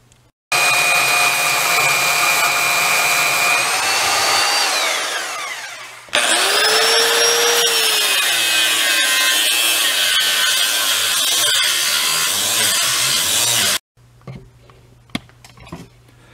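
A power tool cuts through a metal part from a Lawn Boy mower, loud and close, with a high whining drone that drops in pitch as it bites, a brief stop, then another long grinding cut, and quiet clatter at the end.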